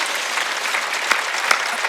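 Churchgoers at an Easter service applaud together, a short stretch of dense, even clapping with a couple of sharper claps standing out.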